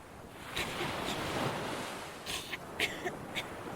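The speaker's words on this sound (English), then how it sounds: "It's the ocean." Waves washing onto a sandy beach, a swelling ocean rush that rises and eases, with several short sharp taps near the end, moderately quiet.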